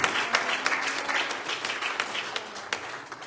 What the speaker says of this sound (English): Will you clap your hands unto the Lord?